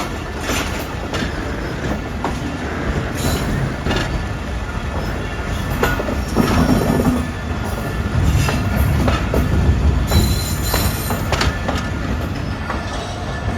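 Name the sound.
Millat Express train running on rails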